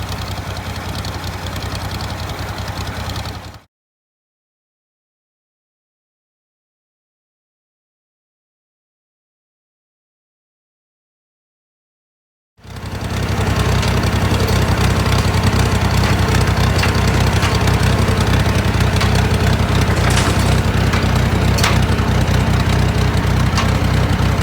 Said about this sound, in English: I'm just hoping that the yellow tractor stays running long enough to get this done